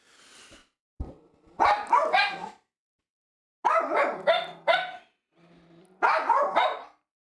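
A dog barks in short bursts at a streamer's home, three clusters of loud, close yapping barks with brief quieter whines between, alone without talk.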